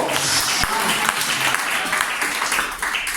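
A church congregation claps during a sermon, a steady wash of many hands applauding at moderate distance without clear voices.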